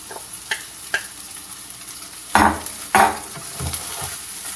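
Beef carne de sol stirred in a pan with onion and garlic browned in butter gives a steady sizzle, broken by several scraping stirs of a utensil against the pan, close and fairly loud.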